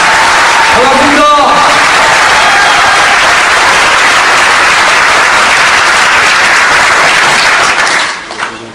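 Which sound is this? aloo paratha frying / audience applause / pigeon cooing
audience applause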